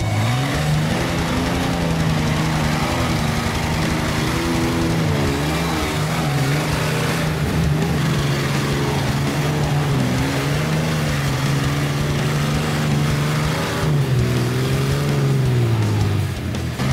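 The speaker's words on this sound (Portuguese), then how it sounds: "o motor começou a perder rotação" An off-road Jeep engine labors and revs on a muddy club trail with rising and falling pitch, losing rotation as it struggles. The sound is loud and continuous, with faint voices in the background.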